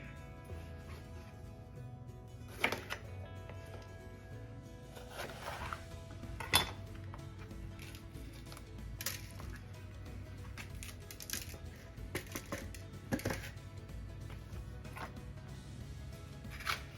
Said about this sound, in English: I'm just going to be doing a rough chop on all these